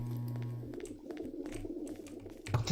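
A pigeon in the DarkRP roleplay game gives soft, low cooing calls, brief and close, with a short burst of coos at the start and another near the end over a quiet background.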